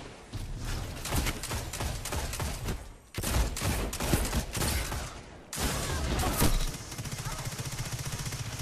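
Gunfire in the video game Destiny 2 during a Quickplay match with a Hunter class. Dense, rapid bursts of shots come close and loud, broken by two brief pauses, with faint talk underneath.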